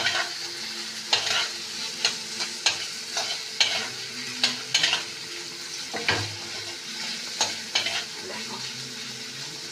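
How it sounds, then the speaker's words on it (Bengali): Spice masala for a vegetable dal fries in a pan while a spoon stirs it, giving repeated sharp scraping strokes over a steady close sizzle. A voice briefly speaks once. "মশলাটা কষানো হচ্ছে"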